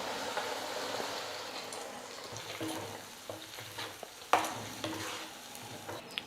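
Ground chutney paste thinned with water being stirred in a pan, with a soft sizzle, bubbling and scraping that stays faint and steady, plus a few small clinks.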